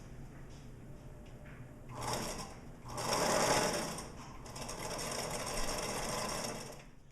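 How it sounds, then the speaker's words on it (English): Sewing machine stitching a seam allowance down flat on fabric to enclose the raw edge, a steady low motor hum that swells into louder running bursts of stitching. "Now you can put your piece back into the machine and sew the seam allowance down flat."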